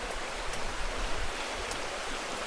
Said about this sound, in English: Now we're crossing the little stream or river, creek.